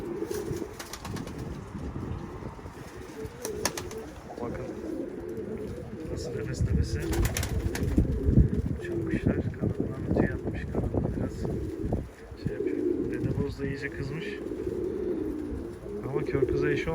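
Pigeons cooing and fluttering nearby on a windy morning flight outdoors, under steady background noise, with a person talking intermittently throughout.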